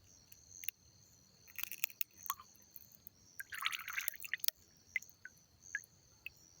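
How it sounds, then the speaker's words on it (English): Blue glow stick liquid poured into a container of water, heard as faint, quiet trickles and scattered drips in short bursts over a hushed background. "And I'm going to pour it"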